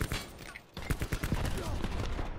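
Gunfire in the video game Black Ops 4: a rapid, fairly quiet volley of cracking shots in quick succession, mixed into busy game noise and overlapping talk.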